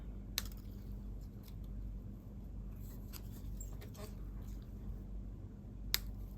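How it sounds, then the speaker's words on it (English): Scissors trim the edges off a paper rainbow diorama card, two crisp snips standing out against a quiet room. "And we're just going to take those edges off. I'm going to snip those."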